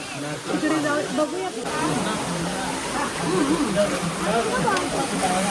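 Water gushes out at the Akash Ganga spot near the Tirupati temple in a steady rushing hiss that runs under excited talk from a man in the crowd.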